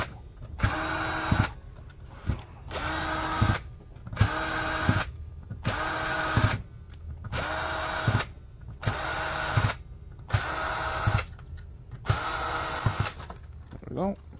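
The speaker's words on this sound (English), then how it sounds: "now we're going to remove the screws in the FET bar" A power drill backs screws out of the fan bar in an old server chassis, running in eight evenly spaced bursts of about a second each, close and loud, with short pauses between.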